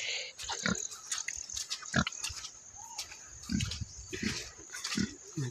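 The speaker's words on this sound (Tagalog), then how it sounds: "Abot na yun ang baboy sa dalan." A pig grunts on a road outdoors, short snorting grunts in irregular bursts, fairly close against a faint steady background hiss with scattered clicks.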